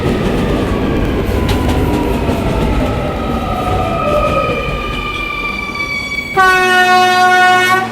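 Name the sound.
R220 subway train running on the 11 line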